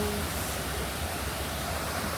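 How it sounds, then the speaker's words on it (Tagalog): Waterfall in Pagoda Park, Yuen Long, a steady broad rush of falling water, constant and fairly loud with no breaks or voices. "May falls."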